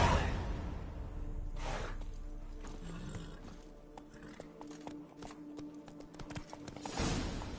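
Horse hooves clop at a steady walking rhythm in The Witcher 3, with soft swishes and ambient game sounds around them, moderately quiet and close.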